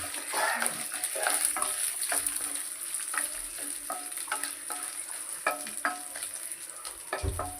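Chana dal and dried red chillies fry in hot oil with a continuous bright sizzle, while a spoon stirs and scrapes the pan in irregular, close-up strokes throughout.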